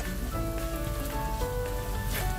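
Ground pork with sesame seeds cooking down in a pan, giving a dense, even frying sizzle with small crackles throughout, close and steady, without any voices.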